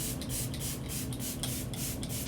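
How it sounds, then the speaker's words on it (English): Short bursts of fine makeup setting spray hiss out in a quick series of pumps, close and soft, with no one speaking. "now I'm going to go in with the setting spray, and I will do a good dose"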